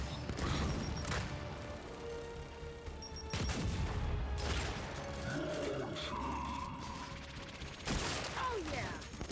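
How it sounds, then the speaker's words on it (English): Grenade blasts and rapid gunfire from the Gears 5 campaign, Act 2 on Insane difficulty: loud broadband bursts recur across the stretch with mechanical clatter and a steady game soundscape underneath, and no one speaks. "we can just throw some grenades too"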